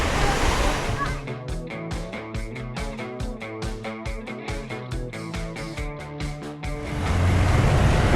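Gentle surf on a beach near Kuta on Lombok's south coast: a broad, steady rushing wash at the start and end, with rhythmic music playing over the middle.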